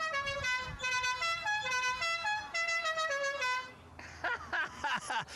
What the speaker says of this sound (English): We'll have to honk the horn for you as well.